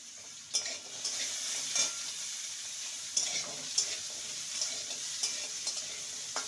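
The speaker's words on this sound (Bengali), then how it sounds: "আলুটাকে ভেজে নেবো" Small pieces cut from three medium potatoes fry in hot oil over spices, a steady sizzle broken by repeated scraping strokes of a stirring spoon against the pan.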